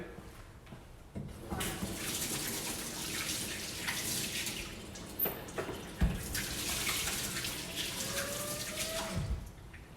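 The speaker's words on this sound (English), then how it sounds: "I'm gonna wash my hands just quickly." A kitchen tap runs steadily while hands are washed during a primary school cooking session making jam tarts and sausage rolls, a close, continuous rushing with small splashes and clatters.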